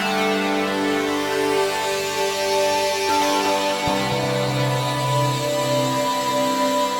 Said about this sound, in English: And you hear how it lands on one of these bell-like tones